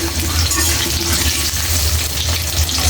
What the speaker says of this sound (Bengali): রান্না করার জন্য আলুগুলো এখন ভেজে নেব